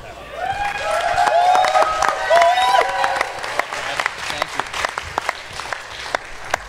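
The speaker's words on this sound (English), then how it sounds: "Will you please give a massive round of applause for our first contestant, Uzair from Cleu." Audience applause with scattered cheers and whistles greets the first contestant at the REACH NeXT 2015 pitch event, a loud, dense burst of clapping that thins into sparse claps.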